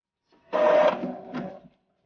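An Epson L3110 inkjet printer powering on gives a short mechanical whir and clatter lasting about a second, loud and close, with a brief second burst before stopping.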